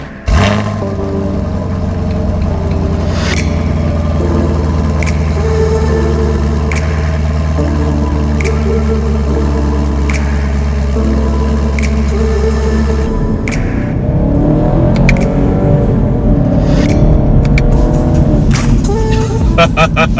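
A 2017 Chevrolet Camaro 2SS V8 engine roars loudly and steadily close by, holding a deep droning rumble before the pitch shifts and rises into a harder rev near the end.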